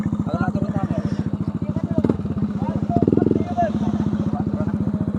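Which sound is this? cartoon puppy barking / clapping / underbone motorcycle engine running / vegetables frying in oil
underbone motorcycle engine running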